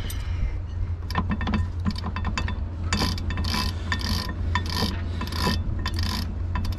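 A Barient sailboat winch turns after maintenance, giving repeated close ratcheting clicks and grinding rasps in uneven bursts over a steady low rumble.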